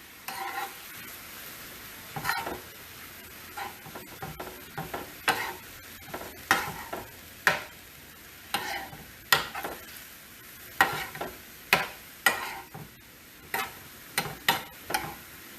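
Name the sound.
stirring soy sauce and cornstarch into a stir-fry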